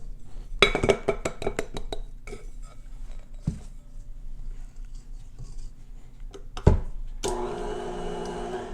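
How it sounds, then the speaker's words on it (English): Keto thin mint cookie dough stirred in a bowl, a spoon scraping and clinking against the sides in a quick burst of taps, then slower scrapes, ending in a brief rougher rush of mixing. "So I had to stir it a few times"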